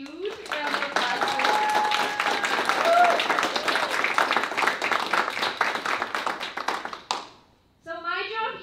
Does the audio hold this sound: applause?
yes